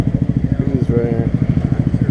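A small Grom motorcycle engine idles up close at a canyon car meet. Its loud, even, rapid thumping pulse is briefly overlaid by a voice.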